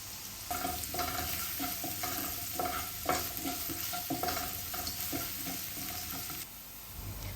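Medium onion, finely chopped, sautéing with a pinch of salt in hot oil for a Saudi jareesh dish: steady soft sizzle with repeated stirring scrapes and clatters, fairly quiet and close, no voices.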